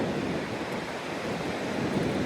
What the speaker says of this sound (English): It sounds so cool with the ocean.